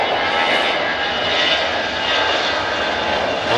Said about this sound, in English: Heading off to Munich, the Airbus A320 with EasyJet.